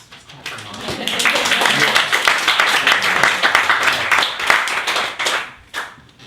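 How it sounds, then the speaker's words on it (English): An audience claps and cheers for mothers, with steady, dense applause building after a brief pause and then fading near the end. "just clap for moms."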